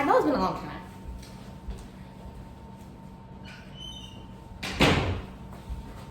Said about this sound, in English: I had to close my door